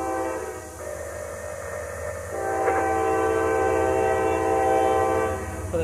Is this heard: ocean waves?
no